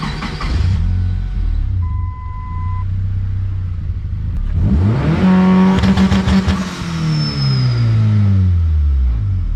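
A Honda car engine idles with a rough rumble, then revs up sharply on launch control and holds a loud, crackling high rev before dropping back down.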